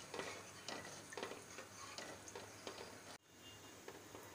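Kadhi curry thickened with yogurt is stirred steadily in a pot as it comes to a boil, giving soft repeated scraping strokes over a gentle sizzle, quiet and close, with a brief dip near the end.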